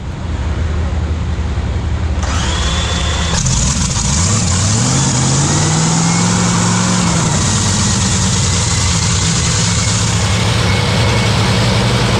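A drag racing car's engine warms up at the US Nationals, a loud, close, continuous roar that climbs and falls in pitch as it revs, with crowd and track noise beneath.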